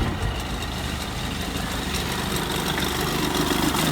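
An 85 hp Force outboard on a 1986 Bayliner Capri idles slowly in gear, a continuous close, rough low rumble with no pauses.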